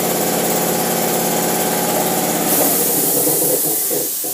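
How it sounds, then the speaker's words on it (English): Engine running steadily on a matched pair of AFB four-barrel carburetors, number 4762, with a continuous close, loud idle-like hum and vibration that grows rougher and fuller partway through. "this carburetor will totally run by itself"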